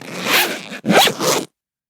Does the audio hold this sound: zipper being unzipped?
yes